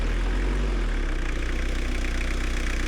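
A 1996 Toyota Corolla engine idles with a steady, close, low mechanical hum and a regular pulsing rhythm, heard alone without speech.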